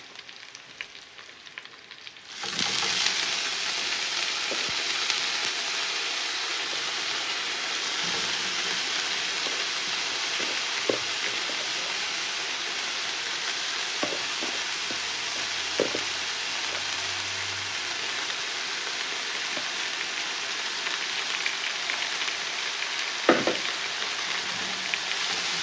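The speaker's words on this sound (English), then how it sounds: "you just go in with the veggies." Vegetables hit a hot pan and burst into a strong, continuous frying sizzle that holds steady and close for the whole stretch, with occasional faint clicks of a utensil.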